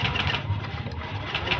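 A Honda Beat FI motorcycle's electric starter cranks with a fast, even mechanical whirring and chatter close by, pulsing steadily without the engine catching.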